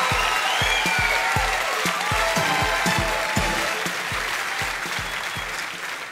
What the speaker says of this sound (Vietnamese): Xin quý vị gửi một tràng pháo tay thật đặc biệt đến cho thi sĩ Du Tử Lê.